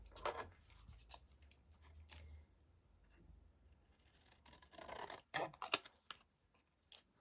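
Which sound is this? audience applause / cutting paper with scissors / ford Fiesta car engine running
cutting paper with scissors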